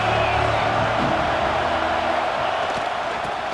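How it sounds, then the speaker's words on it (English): Football stadium crowd at a Michigan State versus Oregon college game, a steady loud roar of many voices filling the stands throughout, with broad sustained noise and no distinct breaks. "This crowd ready to make its presence known."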